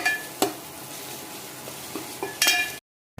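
Garlic sautéing in oil in a pan for dried fish curry, a soft continuous sizzle with a few spatula clicks and scrapes, close up, ending abruptly in silence.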